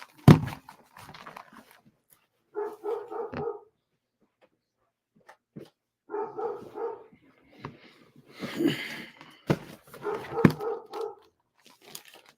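A puppy barking indoors: several bursts of yappy barks in short clusters separated by quiet gaps, with occasional thumps, fairly close and moderately loud, no talking.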